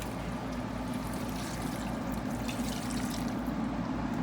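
Water tipped a little at a time into a cooking pot for Jamaican brown stew pork with gungo rice and peas, a steady low pouring and trickling wash that runs continuously and fairly quietly throughout, with no talk.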